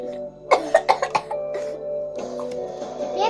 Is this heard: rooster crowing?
no